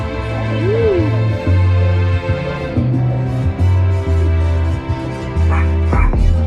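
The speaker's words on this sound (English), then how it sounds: "What you barking at?" A dog barks close by in a string of loud, repeated woofs at an outdoor holiday gathering, with some whimpering and yips between the barks and no clear talk.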